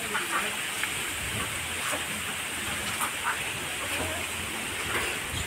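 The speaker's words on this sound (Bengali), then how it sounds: "মামি ধোয়া শুরু হয়ে গেছে মটর চালিয়ে কচু শাকগুলো" A motor pump runs steadily, pushing a constant rush and hiss of water over taro leaves being washed, with faint splashes on top.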